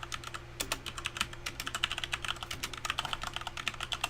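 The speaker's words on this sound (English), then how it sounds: "We'll go ahead and put our password in here." Rapid keystrokes on a computer keyboard as a password is entered, a steady run of close, crisp clicks with a few brief pauses, over a faint constant hum.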